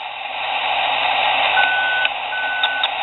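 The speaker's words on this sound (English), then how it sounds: "And that's my scanner beeping up there." A CB radio scanner sounds a highway patrol alert: a steady, loud, band-limited electronic tone with a sustained beep and a few brief blips, close by and with no talk.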